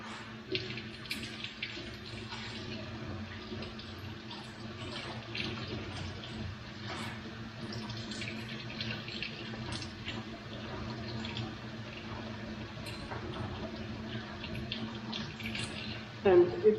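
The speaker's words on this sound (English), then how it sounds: "I just open cold water and put it here" Cold tap water runs steadily into an electric kettle, a continuous splashing pour that stays even throughout and ends with a brief louder clatter.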